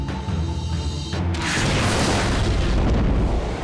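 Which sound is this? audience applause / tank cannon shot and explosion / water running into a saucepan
tank cannon shot and explosion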